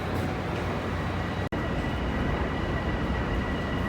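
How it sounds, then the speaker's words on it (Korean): Trains at Jamaica station on the Long Island Rail Road: a dense, steady rumble of rolling rail cars with broad roar and faint high whine, continuous and close, briefly cut once, no talk. "이 역에는 전철 및 기차가 많이 다니기 때문에 사람들도 많아요"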